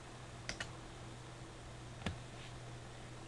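Three isolated keystrokes on a computer keyboard, two in quick succession and a third a moment later, faint clicks over a steady low hum.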